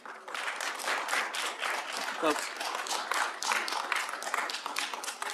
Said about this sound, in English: the applause, Yeah, if it escalates, we're going to need to keep that down, please